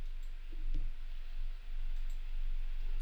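A computer mouse gives a couple of soft, quick clicks early on during CAD drafting work, then only a faint steady room hum remains.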